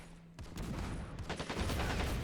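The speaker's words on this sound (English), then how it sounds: "More grenades being thrown across the map." Grenades burst in Planetside: Arena gameplay as a dense rattle of blasts and gunfire, continuous and fairly loud with no pause over the brief stretch.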